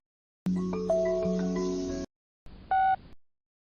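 A telephone call being placed from a restaurant, with a long electronic tone of mixed beeps followed after a short pause by a second shorter burst of tones.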